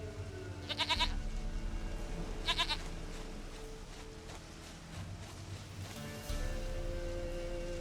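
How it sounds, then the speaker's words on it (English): A goat in The Witcher 3 bleats twice in quick succession, then once more later, each a short quavering cry over a low rumbling game ambience, with no speech. "Goat of mine, dearest, sweetest goat."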